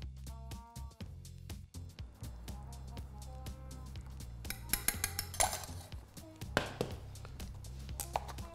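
Wild mushroom velouté served into a bowl: ceramic and metal clinks and clatters ring out against a low kitchen hum, then come denser, brighter scrapes and taps near the end, close and moderately loud.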